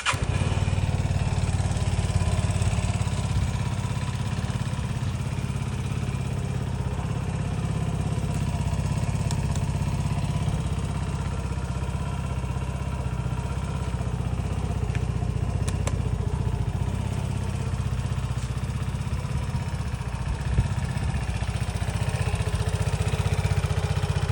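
A 2021 Vespa S125 i-get LED motor scooter engine runs steadily for the whole stretch, a close, even drone with a faint rattle and no changes in pace or any talk.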